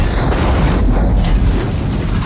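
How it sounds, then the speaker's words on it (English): A sustained, loud, rumbling explosion from a Terminator film roars without a break, dense and booming, with no voices over it. "That's a quality explosion right there."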